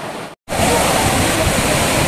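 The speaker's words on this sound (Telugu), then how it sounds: "Gundala water falls" Gundala waterfall in Telangana roaring loudly and continuously nearby, a dense broadband rush broken only by a brief cut near the start, with no talk over it.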